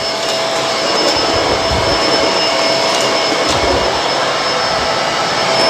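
A Bissell Multi Clean Allergen Pet vacuum runs on a hard floor with its brush roll switched off, giving a loud, steady motor roar and airflow whine that holds evenly throughout.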